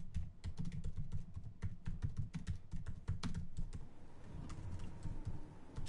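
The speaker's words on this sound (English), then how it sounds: "I'm typing." Rapid typing on a computer keyboard during a PC game session, a dense run of close, crisp key clicks with brief pauses, steady and moderately loud throughout.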